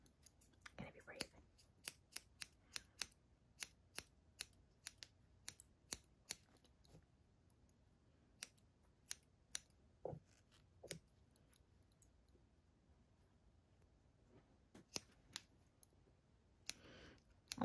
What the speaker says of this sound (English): I'll trim long and then I can always go shorter later.